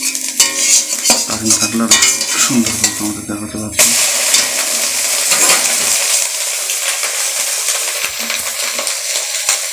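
Eggs for an omelette fry in a pan with a steady, close hiss and sizzle, alongside occasional clinks of utensils, while someone talks over it for much of the clip.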